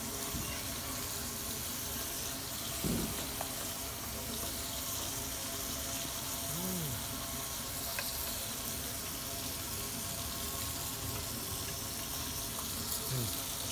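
Fish frying in a pan, a steady broadband sizzle and crackle held at an even level throughout, with faint clinks now and then and no talk over it.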